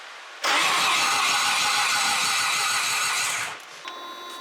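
A Mazda 13B rotary engine cranks over for its first start, a loud steady starter-driven churn with a pulsing low rhythm lasting about three seconds before cutting off, followed by quieter background noise and a faint tone.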